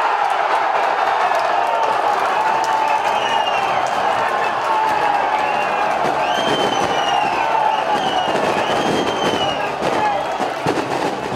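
A stadium crowd roars and cheers after a long-range goal in a Caldense versus Boa Vista match. The dense, continuous roar is punctuated by whistles and sharp bangs like fireworks throughout.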